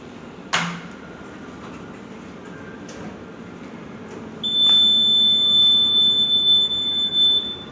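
An EAS anti-theft system CA-35 X alarm at a games center cafe, tested with a spider grip: a short sharp burst, then a steady, loud high-pitched tone that holds for about three seconds.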